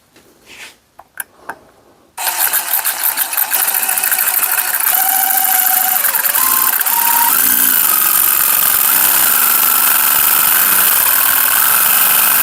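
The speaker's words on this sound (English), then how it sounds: "I'm going to try to drill it out, see if that works." A few clicks, then a power drill whirs up and runs loud and continuous, its pitch shifting as it drills out a metal roll pin on an antique pickaroon.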